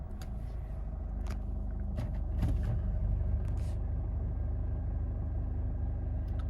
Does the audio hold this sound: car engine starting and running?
yes